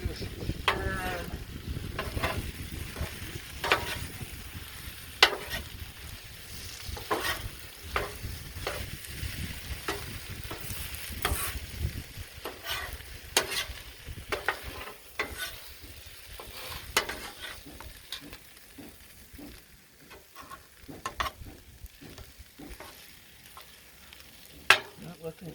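Jambalaya sizzling on a Blackstone griddle while being stirred, with a continuous sizzle broken by frequent sharp spatula scrapes and clanks at an irregular rhythm, close by, with no voices.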